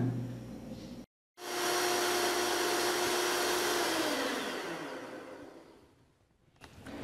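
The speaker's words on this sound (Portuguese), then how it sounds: "E vamos continuar a bater a nossa mistura." An electric hand mixer whirs loudly and steadily as it beats eggs, yolks now added to the whipped whites, for a pineapple-peel cake batter. It cuts off briefly near the start, then runs on continuously before fading lower at the end.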